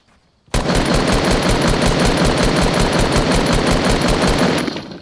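A loud, close burst of sustained automatic gunfire from a shooter video game, rapid evenly spaced shots hammering continuously for about four and a half seconds with no talk over it.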